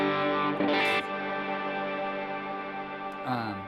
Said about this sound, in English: I have this preset's called Swellage, but it's just my attempt at a big sky cloud reverb.